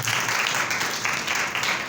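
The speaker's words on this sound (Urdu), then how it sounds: "زوردار تالیاں خدا کے لیے بجا دیتے ہیں۔" Loud, sustained applause from a church congregation clapping in praise of God, a dense steady wash of many hands with no pauses.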